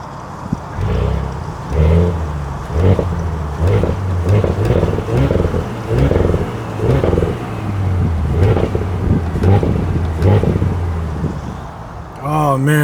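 Deep burbling rumble of a 2022 Audi S5 Sportback engine, with repeated throttle blips pulsing roughly every second or so, close and loud while a person talks over parts of it.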